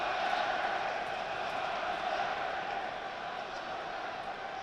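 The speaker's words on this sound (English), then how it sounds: "And the crowd are doing their bit, trying to get them going." Crowd noise fills the stadium at a Sunderland vs Hull City football match. It is a steady, distant roar of supporters with no distinct chants.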